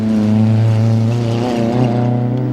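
A classic two-wheel-drive rally car on the Safari Rally drives close by with a loud, steady engine drone whose harmonic pitch shifts slightly as it runs hard, heard with no other sound beside it.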